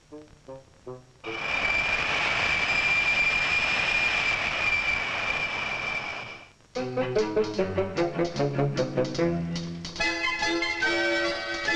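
An airplane engine drones in a steady loud whine for several seconds, surrounded by bright rhythmic music before and after.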